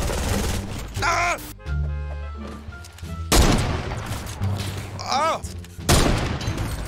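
Bursts of rapid gunfire from the Fortnite video game crackle loudly, punctuated by game effects and tonal beeps, while a player's voice exclaims briefly over the action.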